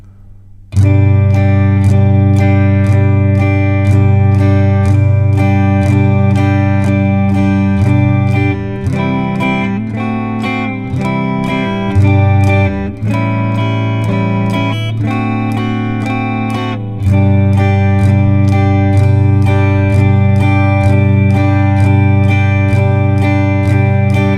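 Steady guitar strumming in an even, repeating rhythm, chords changing every few bars, close and loud with no voice.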